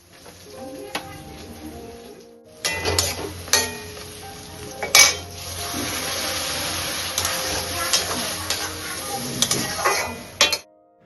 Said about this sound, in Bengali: তাওয়াতে একটা একটা করে ডিম ভেজে নিচ্ছিলাম